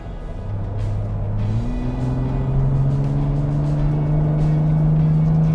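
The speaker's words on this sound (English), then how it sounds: "For an off-road rig, this thing is amazing on the road." A Ford Raptor pickup truck drives along a paved road, its engine droning steadily and climbing in pitch as it accelerates, heard from inside with constant road roar beneath.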